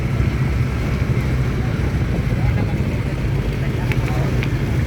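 Constant low engine rumble of a ferry boat at a port, mixed with steady wind buffeting the microphone, loud and close throughout with no clear breaks.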